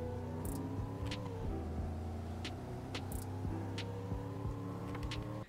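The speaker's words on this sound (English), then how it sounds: "here's one last acceleration" A 1969 Dodge Coronet accelerating, its engine droning steadily with layered low harmonics that shift slightly as it pulls, heard close and moderately loud, with brief clicks on top and no speech.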